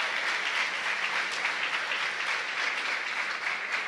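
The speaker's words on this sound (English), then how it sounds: "I'd ask you if you would give them a round of applause too" Steady applause from a sizable audience fills the space, a dense, even wash of clapping with no voices over it.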